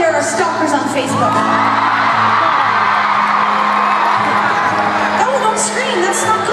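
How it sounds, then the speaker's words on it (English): A large concert audience at a show screams and whoops loudly in a sustained roar of excited voices, with high shrieks rising above the crowd noise. "don't scream, that's not good"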